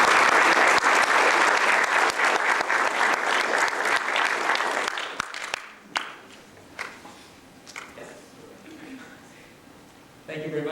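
Sustained audience applause welcoming a lecturer at a university lecture series, loud and dense for about five seconds, then thinning into scattered claps and light room noise.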